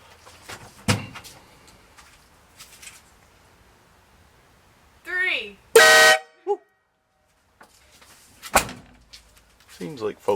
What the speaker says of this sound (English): Go mash the horn button.